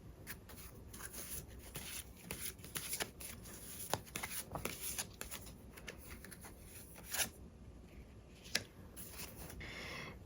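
Tarot cards shuffled by hand close up, a quick run of soft riffling flicks and slides with a couple of sharper snaps, fairly quiet and without talk.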